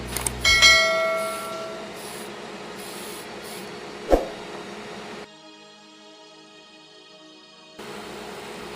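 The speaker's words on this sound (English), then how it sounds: "For priming the body, I used TAMIYA's white fine surface primer" Tamiya white fine surface primer sprayed in steady hissing bursts onto a 1/24 Hasegawa Calsonic Nissan R92CP model car body, a few faint ringing clinks at the start, with a quiet pause before the spray resumes.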